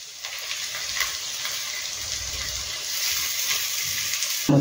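Chopped ginger, garlic and onion fry in oil in a pan with a moderate, continuous sizzle, sometimes disturbed by stirring. It swells slightly toward the end.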